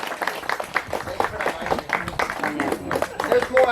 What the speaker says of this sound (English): Applause for the alligator.